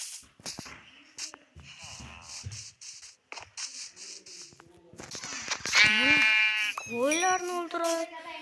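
Sheep bleat in the Minecraft video game, several short quavering cries that grow louder and closer toward the end, mixed with shuffling game sounds and a voice talking.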